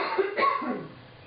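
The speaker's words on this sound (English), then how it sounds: "I still have these little coughing fits on occasion." A single short cough bursts out close to the microphone and is followed by a brief throat-clearing rasp, both fairly quiet.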